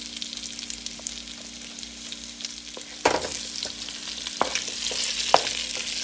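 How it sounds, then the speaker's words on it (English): Raw chicken pieces dropped into a hot frying pan for Pad Thai, a steady close sizzle with sharp crackling bursts as the meat hits the oil and is stirred. "See the sizzling sound."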